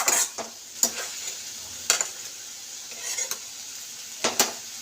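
Bitter greens are stirred and mixed in a pan, with a soft sizzle of frying beneath repeated sharp scrapes and clinks of a spatula against metal, close up and without speech.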